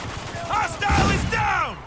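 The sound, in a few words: gunfire from the video game Spec Ops: The Line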